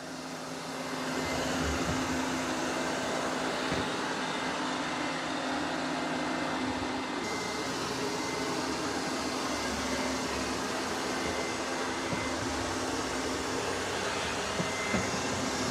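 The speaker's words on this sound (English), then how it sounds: "And it is vacuuming and mopping at the same time." A Eufy E25 robot vacuum runs while vacuuming and mopping a floor at once, a steady close whirring hum with a low motor tone that holds level throughout.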